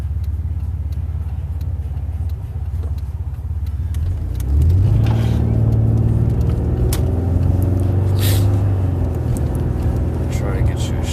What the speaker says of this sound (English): I'm trying to fight traffic here.